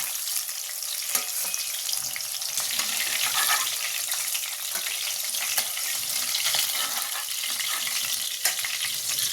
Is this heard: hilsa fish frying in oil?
yes